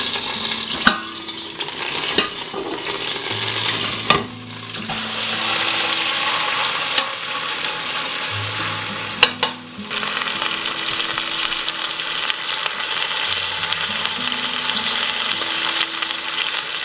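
Beef searing in an Instant Pot for peppered beef, a continuous close sizzle broken by a few sharp clanks as the meat is moved and turned.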